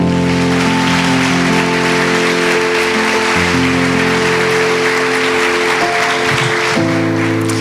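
A church congregation claps loudly and continuously during a worship service, the dense applause running for several seconds over sustained organ or keyboard chords.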